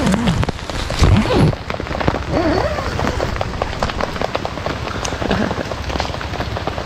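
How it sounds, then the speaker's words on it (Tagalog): Heavy rain pours steadily at a campsite, a dense hiss of drops drumming on surfaces nearby, with a few faint voices at the start. "Lakas ng ulan."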